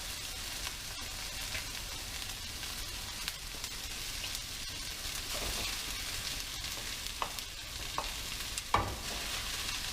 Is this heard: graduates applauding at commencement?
no